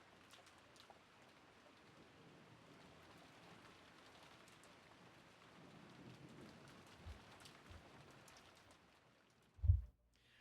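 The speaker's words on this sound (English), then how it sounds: "The only voice that called after them was the sound of the rain." Steady rain falls throughout, a dense even hiss of drops on surfaces with a low rumble building later and a sudden heavy thud near the end, like distant thunder.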